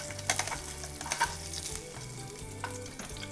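Fried egg topping sizzling in oil with garlic in a pan for a pasta dish, steady crackling and spitting with sharp pops, close and fairly quiet, no talk.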